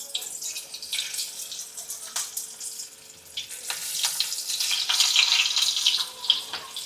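Stuffed okra pods fry in hot oil for Gujarati bharela bhinda, a steady close hiss and crackle that swells louder toward the end, with no talking.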